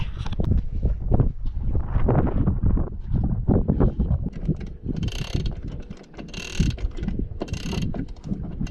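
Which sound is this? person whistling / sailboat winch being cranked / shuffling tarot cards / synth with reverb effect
sailboat winch being cranked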